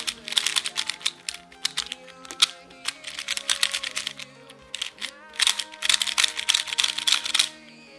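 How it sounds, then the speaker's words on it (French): A Rubik's cube being turned (a Valk 3, X-Man Volt or WoShuang GTS) gives quick, close plastic clicks and rattling snaps in uneven bursts with short gaps between them. "Un turn, il est un peu... il a un bruit assez bizarre"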